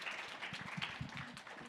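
A small audience claps briefly, a soft, steady patter of hands that sounds somewhat distant and muffled.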